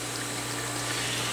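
Water trickles steadily through a hydroponic growing system, a constant broadband wash with a low pump-like hum beneath, fairly faint and with no talking.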